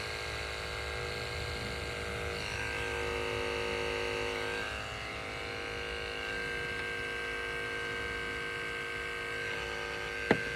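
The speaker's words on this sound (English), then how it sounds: "And then I like to shave their belly, just so it's nice and clean down there." Electric clippers buzz steadily while shaving the belly of a powderpuff Chinese Crested dog, a close, even motor drone with slight pitch shifts as the blades move over the fur, and a brief click near the end.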